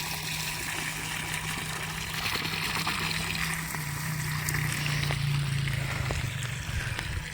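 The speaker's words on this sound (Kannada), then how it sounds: "ಈ ಥರ ನೀರು ಹೊರಗೆ ಹಾಕ್ತಾಯಿದ್ದೀನಿ" Water drains out of an outlet at a tractor and home construction site, a continuous rushing, gurgling flow that is fairly quiet and steady, with no talk.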